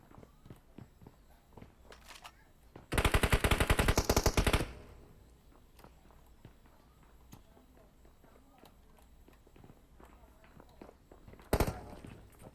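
Gunfire in PUBG Mobile, a dense burst of rapid automatic shots lasting about two seconds, then a later short loud burst, with scattered footstep-like clicks throughout and people talking.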